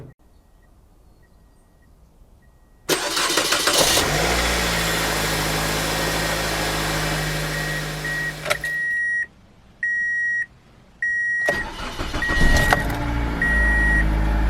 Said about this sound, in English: I'm going to go ahead and try to start this car